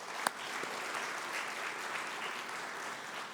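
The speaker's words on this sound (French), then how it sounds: "ces gens les 86 projets méritent notre applaudissement." Steady applause from an audience at the final award ceremony of a regional innovation challenge, a dense, even wash of clapping that holds at a moderate level throughout, with one sharp louder clap near the start.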